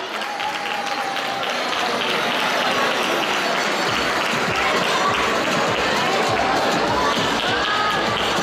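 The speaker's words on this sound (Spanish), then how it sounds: "Un fuerte aplauso, Diana." Sustained applause from a crowded audience at a children's drawing award event in a conference hall, loud and steady throughout with faint voices beneath.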